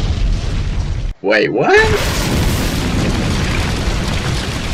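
A fiery explosion in the horror video game Nightmare at Freddy's, a loud sustained roaring blast that cuts off abruptly, then a voice speaks briefly before the rumbling boom resumes.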